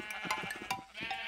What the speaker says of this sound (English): Or shear the sheep.